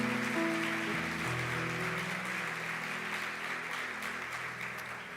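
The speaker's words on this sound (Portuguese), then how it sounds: "você pode dar um aplauso ao Senhor nessa manhã?" Congregation applauding during a church service, a broad, even patter of clapping under sustained organ or keyboard tones that fades slightly.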